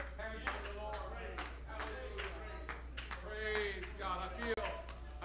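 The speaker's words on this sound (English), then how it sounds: "let's clap our hands to the Lord" A church congregation claps hands in worship during a night service, with steady rhythmic claps at a regular beat. Voices singing and speaking carry over the claps.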